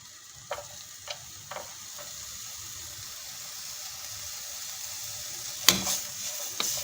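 Capsicum tossed into frying samosa filling, a few sharp stirring clacks early, then a steady sizzle, with a loud burst of crackle and clatter near the end as the pieces hit the hot pan; no one speaks.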